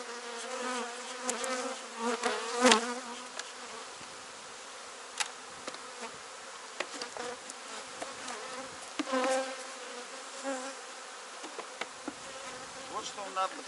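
Honey bees working at an open hive, a steady close buzzing drone with individual bees zipping past the microphone now and then.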